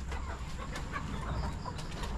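Chickens clucking in a farmyard, a steady mix of close and distant clucks over dense, noisy background ambience, with no talking.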